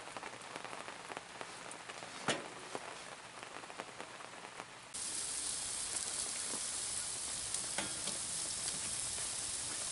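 Deer ribs sizzle on an outdoor grill in a steady, dense crackle that grows louder and brighter partway through, with a few sharper pops scattered across it and no voices.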